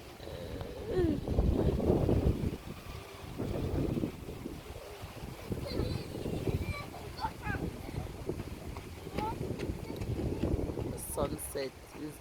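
Wind blowing outdoors near mountains at sunset, gusting in rough buffeting waves across the microphone, with a voice talking over it in places.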